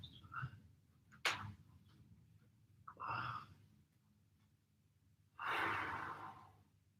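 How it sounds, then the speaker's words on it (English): Deep breaths during a home recovery workout session, a few slow audible inhales and exhales spaced apart, close and fairly soft, with a longer heavy exhale near the end. "Good, big deep breaths."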